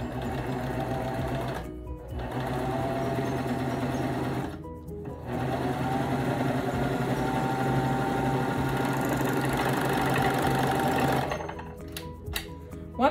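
A serger sewing machine stitching doll bell-bottom pants runs in a close, steady mechanical whir, pausing briefly twice, then stopping near the end with a few clicks.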